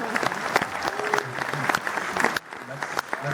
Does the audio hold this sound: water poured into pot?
no